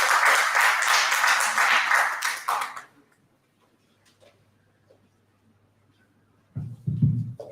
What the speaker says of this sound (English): let's all invite Dr. Sarena in giving her a round of applause